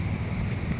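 Gusty outdoor wind buffets the microphone in a steady low rumble that continues without a break and stays close and loud, with no voices over it.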